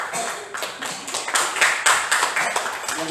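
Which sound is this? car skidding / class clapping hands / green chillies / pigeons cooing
class clapping hands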